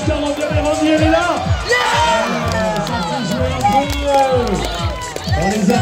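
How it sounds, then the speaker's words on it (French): Spectators at a speed climbing World Cup competition clap and cheer loudly and continuously, a dense crowd roar with whoops and shouts throughout, while an announcer talks over it. "On les applaudit, Natalia Kaouska."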